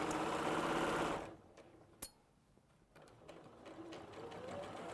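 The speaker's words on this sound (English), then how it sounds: "So I'm just sewing all the way around now." A sewing machine stitching an appliqué cushion rattles in a fast, loud, steady run for about a second, then stops. A quiet room with faint small clicks follows, and a soft background hum rises again toward the end.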